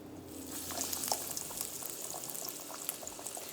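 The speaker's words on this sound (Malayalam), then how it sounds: "ഇനി ഇതെടുത്തിട്ട് ചൂടായ എണ്ണയിലേക്ക് ഇടുക." Breaded chicken kabab dropped into hot oil, giving a steady bubbling sizzle with scattered crackles, close and fairly even throughout with no voices.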